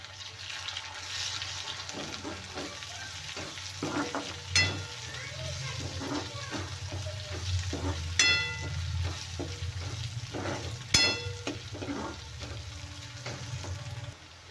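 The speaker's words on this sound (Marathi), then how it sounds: "आता घालूया कढीपत्ता" Curry leaves frying in hot oil in a pan, a loud, continuous crackling sizzle close up, with occasional sharp pops and clinks over the fizz.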